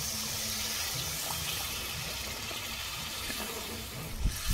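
Rinse water from a bowl poured into a cooking pan of spiced stuffed-potato masala, a steady soft splashing trickle running throughout with a small clatter near the end.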